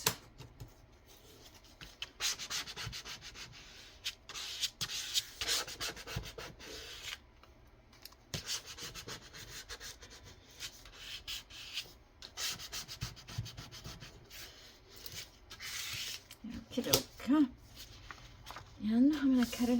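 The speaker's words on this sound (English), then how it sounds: "So now, turn this over. Get this rubbed down really nice." Parchment paper rubbed down firmly by hand, a soft, continuous scratchy rubbing in repeated strokes close to the listener, with brief speech near the end.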